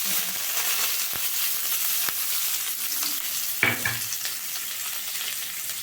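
Onions and curry leaves sizzle and crackle steadily in hot oil, with occasional stirring scrapes and a brief louder burst midway.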